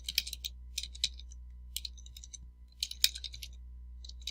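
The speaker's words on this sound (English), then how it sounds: "we're just going to type in the keyword that I'm trying to rank for" Close computer keyboard typing as a search keyword is entered, quick irregular clusters of crisp key clicks with short gaps, over a low steady hum.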